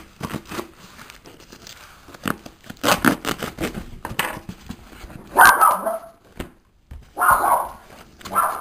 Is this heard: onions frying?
no